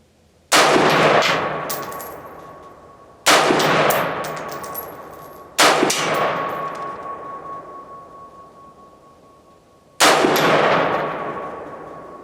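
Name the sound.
rifle gunshots firing PPU 55 grain ammo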